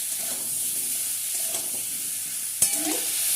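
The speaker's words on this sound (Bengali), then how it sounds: "এবারে ভাজতে থাকবো যতক্ষণ না পর্যন্ত আমটা একটু লাল লাল করে ভাজা হয়ে যাচ্ছে" Mango pieces for a sweet, sour and spicy pickle made with jaggery and turmeric sizzle in a pan under steady frying hiss, with light stirring and one sharp clank partway through.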